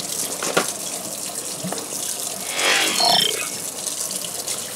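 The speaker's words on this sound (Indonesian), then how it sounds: "Ntar cuci tangan dulu." A kitchen faucet runs while hands are washed, giving a soft continuous splashing hiss that swells for a moment as the hands move under the stream, with a few faint clinks and no talk.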